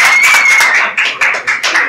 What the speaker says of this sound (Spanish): ¡Fuerte el aplauso que se sienta!